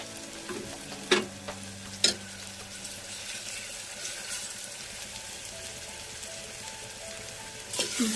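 Ginger garlic paste sizzling and frying in a pan, a soft steady crackle with a few sharp spoon scrapes or clinks against the pan.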